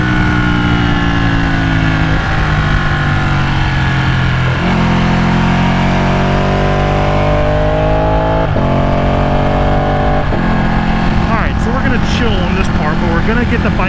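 A Ducati 899 sport bike engine drones loudly and continuously while riding, rising and falling in pitch through several gear changes, with a voice talking over it throughout.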